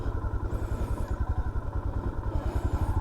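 A motorcycle engine runs steadily while riding on a trip through the Cantá region of Roraima, its low mid-range drone pulsing in quick, regular thumps up close, with no talk over it.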